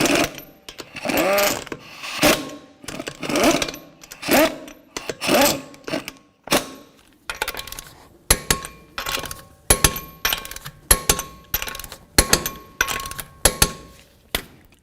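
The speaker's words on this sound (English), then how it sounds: "start all of our lug nuts, bottom them out, and then we'll torque them to 76 foot-pounds." A wrench spins lug nuts onto a 2003–2017 Toyota Camry front wheel during a brake pad job, in bursts of rapid ratcheting clatter. The bursts start long, then turn short and regular.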